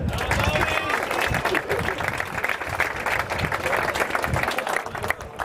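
Applause from the audience at an amateur football awards gala, continuous mid-level clapping with crowd murmur and voices talking over it throughout.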